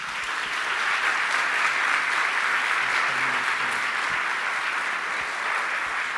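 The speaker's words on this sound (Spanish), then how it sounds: "los invitamos a darles un fuerte aplauso" Steady, loud applause from the audience at an education, science, technology and culture commission forum, honoring the panelists; a dense, even roll of clapping with no talk over it.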